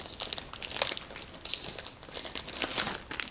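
Stiffer paper is handled and folded into a box, giving close, dry crinkling and crackling in irregular bursts, fairly quiet with no voices.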